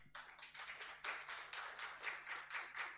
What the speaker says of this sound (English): So that requires applause